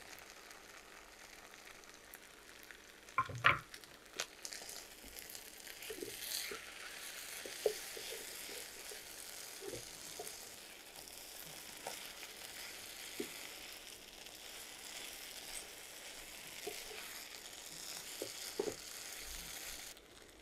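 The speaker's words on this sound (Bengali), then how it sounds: "এই ভর্তাটা একটু ভেজে ভেজে করতে হয়। আমি বেশ কিছুক্ষণ একটু ভাজলাম" Mashed bharta with fried tomato and garam masala sizzles quietly in a pan, a soft steady hiss with a brief clatter of stirring early on and scattered light pops throughout.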